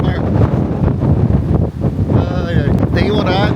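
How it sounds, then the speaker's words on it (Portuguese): Strong coastal wind at Newport on the Oregon coast buffets the microphone in a constant heavy roar, with a voice speaking over the gusts. "Vocês não estão entendendo o vento que está aqui. O vento te joga para trás."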